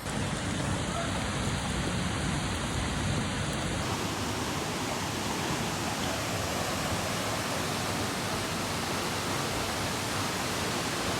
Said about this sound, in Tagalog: So nakarating na nga kami sa Sampaloc Falls